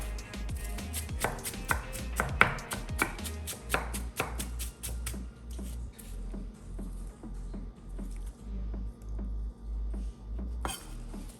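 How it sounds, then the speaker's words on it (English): A knife dices an apple into small cubes on a cutting board, with quick, crisp chops that settle into a steady, evenly spaced rhythm, close and clear, ending in a final sharp knock. "we just want to cut this apple down into small little cubes"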